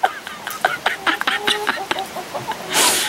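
Chickens and guinea fowl clucking and squawking at their own reflection in a mirror, a close, loud string of short calls, ending in a burst of broadband noise.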